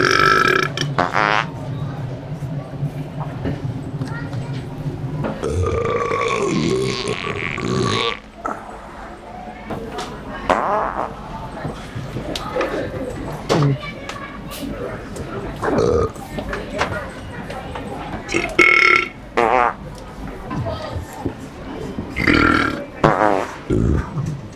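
A man lets out loud, drawn-out burps in a busy Walmart store, with people talking around him before and after.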